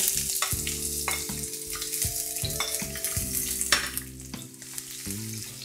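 Onion and garlic frying in hot olive oil in a pan, a continuous close sizzle with crackles and occasional utensil clinks, no voices.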